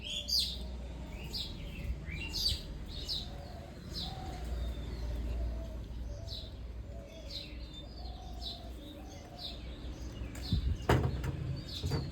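Birds being fed, including pigeons or doves, with soft cooing and scattered high chirps and tweets nearby, a brief flutter of wings near the end, in a quiet outdoor setting without talk.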